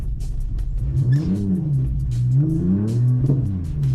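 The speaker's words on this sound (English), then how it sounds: "Oh, we're drifting up the hill." Car on very wide tyres drifting up a slippery hill, its engine revving and rising and falling in pitch with wheelspin, loud and close throughout, with no talking.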